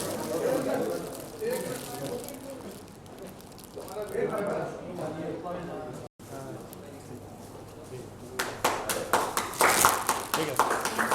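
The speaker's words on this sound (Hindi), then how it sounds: "तालियां तालियां तालियां।" Applause at the 2nd Dadasaheb Phalke Icon Award Films International 2023 ceremony in Dubai: someone talks over a murmuring room, and a burst of sharp, close clapping rises near the end.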